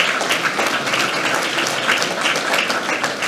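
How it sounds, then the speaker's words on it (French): Applause at a town's New Year's greetings ceremony, a steady wash of many hands clapping together in a hall, fairly loud and continuous with no talk over it. "on peut applaudir le bailleur social"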